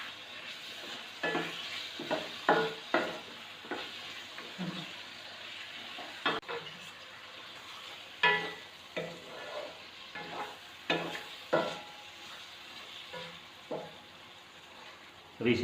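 Fried arbi (taro root) stirred into masala in a pan for a lemon arvi fry: a steady frying sizzle broken by repeated scraping stirs and spoon knocks at irregular intervals, close and fairly quiet.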